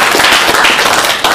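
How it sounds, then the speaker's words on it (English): Crowd applause for Congressman David Price at a Bangladeshi community meeting, a dense burst of many hands clapping that fills the short moment at steady loudness. "give a big round of applause for Congressman David Price"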